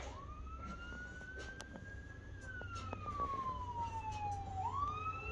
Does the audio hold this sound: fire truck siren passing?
yes